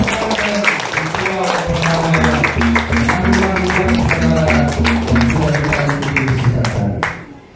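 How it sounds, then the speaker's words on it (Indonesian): An audience at a traditional ceremony of the Irarutu people claps continuously, a dense patter of many hands mixed with a steady musical drone and voices in the background, fading out at the end. "Mari kita beri tepuk tangan untuk seluruh"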